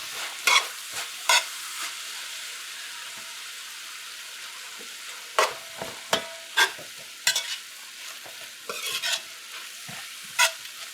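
Scallions and celery stir-fry in a pan with a soft, continuous sizzle, punctuated by sharp scraping clacks of a spatula against the pan at irregular intervals.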